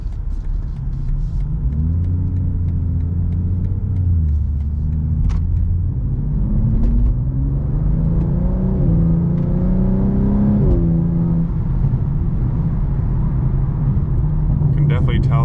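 A BMW M2 G87 with a single midpipe, its exhaust in M1 mode with valves partly open, gives a steady close rumble with several rising and falling revs over the idle, loud throughout, with no speech.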